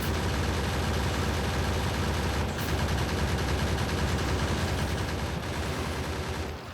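Gun turrets in the Factorio video game fire bullets in a dense, unbroken barrage of rapid shots that stays loud and steady throughout, with no voices over it.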